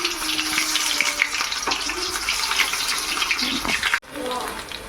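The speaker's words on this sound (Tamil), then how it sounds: "நான் இப்போ எண்ணெயில் போட்டுறேன்." Batter dropped into hot oil sizzles and hisses steadily at close range, a broad continuous frying wash with a brief cut near the end, and no talk over it.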